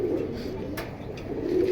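Caged pigeons coo in a continuous low burble, near and fairly loud, broken by a couple of faint clicks, with no talking.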